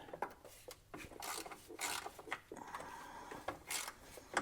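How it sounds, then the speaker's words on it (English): Wrench work loosening the bottom nut of a sway bar end link on a 1988 Honda Prelude Si, with repeated scraping, rasping metal-on-metal strokes and clicks in short uneven bursts close up. "you can hold it while you remove the bottom nut"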